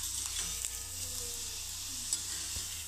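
Wheat kurdai frying in hot oil gives a steady, bright, hissing sizzle with faint crackles throughout.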